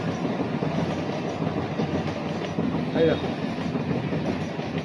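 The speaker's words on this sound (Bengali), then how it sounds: "এই দেখো বন্ধুরা ট্রেন যাচ্ছে" A train rumbles past nearby on a railway line, heard from a balcony window, with a steady low roar and faint rhythmic clatter of wheels, with a brief metallic squeal partway through.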